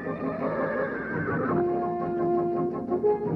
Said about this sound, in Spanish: ¡Quieto, caballo! ¡Quieto! ¡Cuidado! ¡Que no escape!